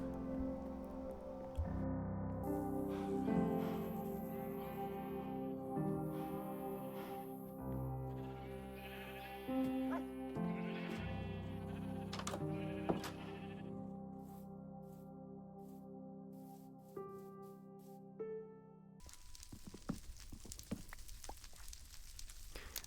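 Sheep in the video game Minecraft bleat repeatedly in short, tonal cries, close and clear, with overlapping calls across the stretch and a crackling, fire-like hiss near the end.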